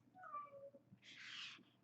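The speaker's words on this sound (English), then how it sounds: "The cat is outside of the door yelling at me, trying to get in." A cat just outside a door meows to be let in: a faint tonal cry, then a longer, louder, harsher yowl, both quiet and somewhat distant.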